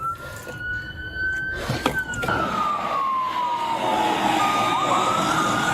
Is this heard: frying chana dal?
no